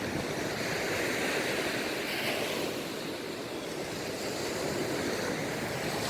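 Sea waves below the Varkala cliffs, a continuous broad roar of surf heard from above, with wind buffeting the microphone throughout.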